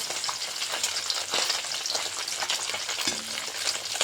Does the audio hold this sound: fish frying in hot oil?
yes